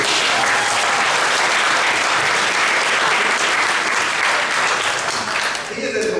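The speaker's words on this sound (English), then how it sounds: "can we just give Arthur a round of applause?" A large audience applauds Arthur, a loud, dense wash of clapping that runs unbroken for several seconds before thinning slightly at the very end.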